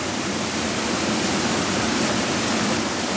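A waterfall pours steadily into a pool below, producing a continuous, close, broadband roar of falling water with no voices.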